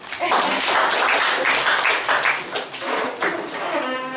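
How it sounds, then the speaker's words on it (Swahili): Audience applause fills a church gathering, steady dense clapping held at a loud level throughout without pause. "Naomba mnipigie na mimi makofi."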